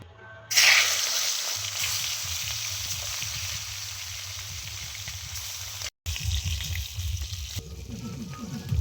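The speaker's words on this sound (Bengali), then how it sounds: "এবার আমি মাছগুলো তেলের মধ্যে দিয়ে ভেজে নেব" Fish frying in hot mustard oil in a wok, a steady loud sizzle and crackle that starts abruptly and runs throughout with a brief cut near the end, with no talking.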